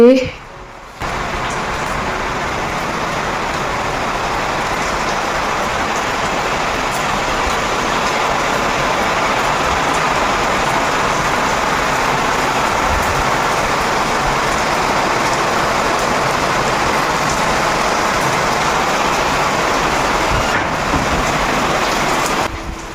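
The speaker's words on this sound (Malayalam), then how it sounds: "മഴ പെയ്തുകൊണ്ടേയിരിക്കുക പുറത്ത് ദേ" A steady roar of rain falls outside for a long stretch, broad and constant, with a faint hint of traffic in the background.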